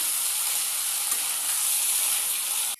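Vegetables frying hard in hot oil with fenugreek seeds, bay leaf and green chilli, a loud, dense, steady sizzle that holds unbroken for nearly three seconds and then cuts off abruptly.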